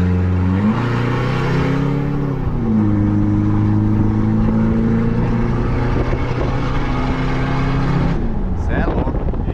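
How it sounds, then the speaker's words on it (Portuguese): A Toyota Hilux pickup with a stage 2 tune and straight-pipe stainless steel exhaust revs hard and loud up close, its pitch climbing and holding in sustained pulls, with voices talking over the engine. "Cara, essa caminhonete ficou com barulho bonito demais"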